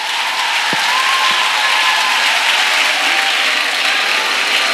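A congregation at a church retreat for unmarried people claps loudly and continuously in an acclamation, a thick, even wall of applause from many hands with a faint sustained tone running beneath.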